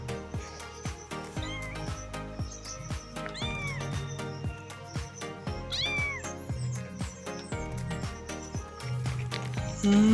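A small abandoned kitten meows repeatedly in short, high, plaintive cries, close and clear, over a backdrop of steady plucked background music.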